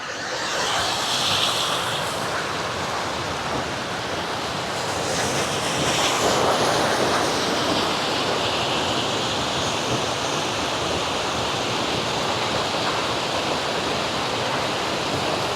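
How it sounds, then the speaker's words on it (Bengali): Water pours down through a sluice gate in South Korea, a loud, constant rushing roar close by with some wind buffeting the microphone. "এদিক দিয়ে নেমে যাচ্ছে পানি কল কল করে"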